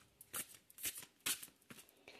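A large deck of illustrated oracle cards is shuffled and handled, making several quick, soft riffling and flicking bursts close by at low volume.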